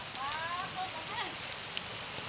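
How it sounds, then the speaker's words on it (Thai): Rain falls on a rural countryside campsite, a steady, even hiss of drops with no clear breaks, plus a few faint tonal wisps in the background. "ฝนตก"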